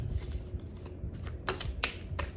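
Cards are shuffled by hand in quick riffling bursts, a few sharp flutters close to the mic in an otherwise quiet room.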